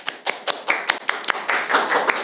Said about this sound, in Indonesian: Boleh minta tepuk tangan untuk Dito.